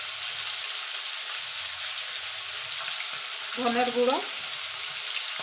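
Tangra fish fry in a pan with a steady, close broadband sizzle that runs throughout, while a person briefly speaks over it.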